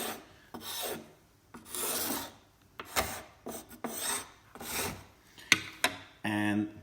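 A scraper strips blistered, softened paint from an exterior wooden window, a series of short rasping strokes close by, about eight in uneven rhythm with brief gaps between them.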